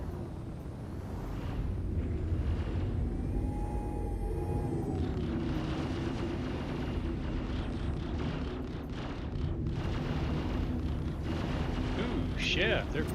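Space combat in Star Citizen: weapons fire and explosive blasts rumble and crackle continuously at moderate level, with brief sharper bursts, while a voice talks over the din.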